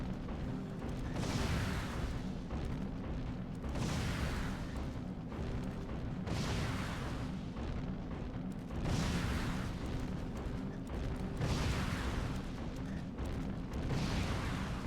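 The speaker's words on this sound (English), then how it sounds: "Those are shotguns." Repeated heavy blasts of shotgun fire from mechs in the Chrome Hounds video game, booming bursts coming in rough waves every couple of seconds over a constant rumbling battlefield bed, with no speech.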